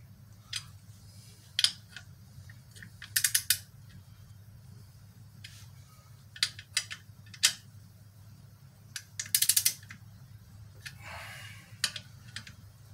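A hand ratchet tightens clutch plate bolts on a Jeep 4.0 engine being rebuilt, with short bursts of rapid clicking separated by pauses in a quiet garage over a low steady hum.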